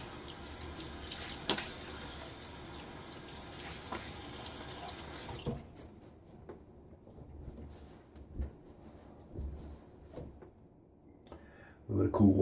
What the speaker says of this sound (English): So here we go. Get my face wet.